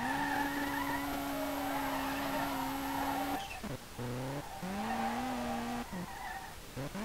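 A Nissan 180SX drifts in the SLRR video game, its engine droning steadily, then revving and dropping in repeated swells as tires squeal through the slides.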